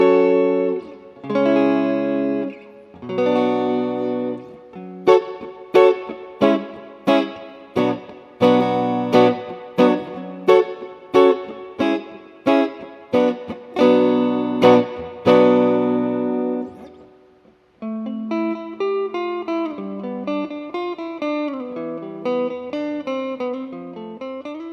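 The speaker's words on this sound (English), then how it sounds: "very cool little pedal, the Moody Blue Reverb" Electric guitar through a Henretta Moody Blue Reverb pedal: chords and single notes ring out with a wet, spacious reverb tail, first strummed rhythmically, then a sustained, shimmering melodic passage.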